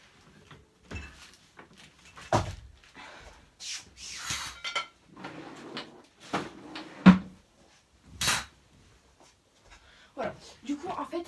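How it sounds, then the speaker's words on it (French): Wooden drawer or cupboard handled while putting an item away in a bedroom, giving several short knocks, slides and rubbing thumps spread through the clip, close and fairly quiet, with a person talking between the sounds. "Je vais le mettre dans le tiroir là-bas."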